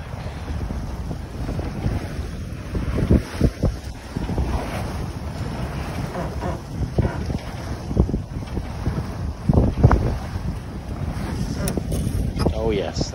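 A sailboat on the Choptank River runs through a rising breeze, heard as a rough, loud wind rush buffeting the microphone over low water wash, with scattered thumps and no clear speech.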